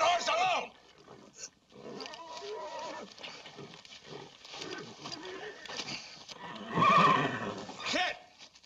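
Horse whinnying in a western film scene, with a shrill neigh standing out amid tense shouted dialogue and a struggle, some bursts loud and close.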